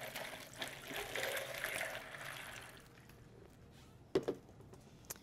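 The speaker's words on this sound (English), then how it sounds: "Then you take water and fill the cooler with water." Water pours into a cryo cuff cold-therapy cooler already filled with ice, a soft, steady trickling stream that fades after a few seconds, followed by a couple of faint knocks.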